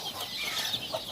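Hens cluck softly in a homemade chick-brooding setup with heat bulbs, a steady low murmur of fowl calls with a brief louder cluck near the end, moderately close and without talk.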